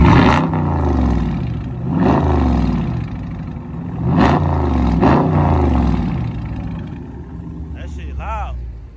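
A 2020 widebody Dodge Charger with a mid muffler delete revs hard several times, loud rising and falling roars close by, with voices talking over the engine.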